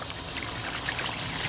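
Gravity-fed water trickles steadily from a cage watering manifold built for quail, rabbits and chickens, a soft continuous splashing dribble that stays even and close throughout with no voices.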